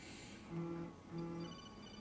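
Phone ringing inside the video game Fallout 4, two short electronic ring bursts repeating in a steady rhythm over faint game background noise.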